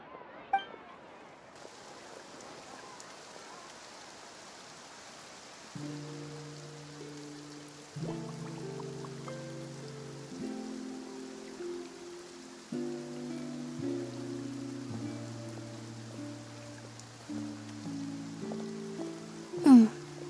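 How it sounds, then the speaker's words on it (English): Rain falling in Fontaine within a video game, a soft steady patter under a gentle musical tune with layered tones, ending in a brief brighter chime. "Looks like rain."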